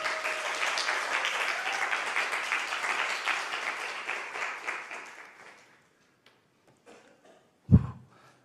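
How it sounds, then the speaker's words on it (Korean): A church congregation claps steadily together, a dense sustained round of applause that fades out after about five seconds, followed by near silence and a single loud thump. "나오시되 박수로 힘있게."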